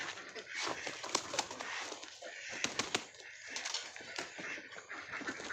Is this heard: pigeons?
yes